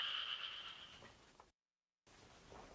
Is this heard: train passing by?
no